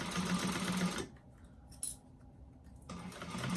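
A sewing machine stitches a bag lining in two short bursts of close rattling, with a quiet pause and a small click between them.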